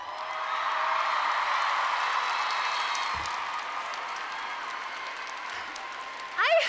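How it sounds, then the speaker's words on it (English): An audience claps in sustained, even applause that gradually softens, with a voice breaking in right at the end. "I bet you never ever thought in your entire life you would applaud for something like that"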